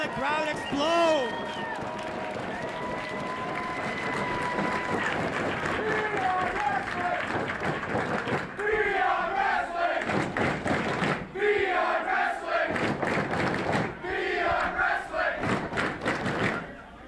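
A wrestling crowd at an independent show roars with cheers and applause after a double drop kick, a dense, sustained wall of noise with shouts and claps, while commentators talk over it.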